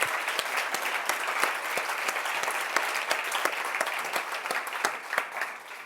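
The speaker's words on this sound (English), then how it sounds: "Can we all give a big round of applause for Joe?" An audience at an education talk session claps in sustained, dense applause, steady and fairly close, with scattered sharper claps standing out and no talking over it.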